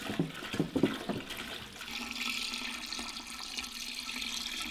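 Non-mineralised water pours and splashes into recycled plastic jugs, a steady close trickling fill that runs alone without talk.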